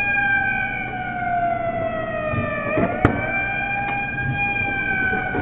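Electronic wailing siren from a Namco fire truck arcade claw machine, a loud close rising-and-falling tone with a few faint clicks from the machine.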